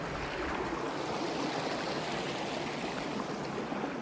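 Mountain river flowing strongly in the rain, a steady broadband rush of water close by with no break, no voices over it.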